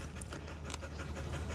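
A hot dog pants in the heat, a rapid, steady stream of quick breathy huffs heard close against a dense background hiss, with no talking.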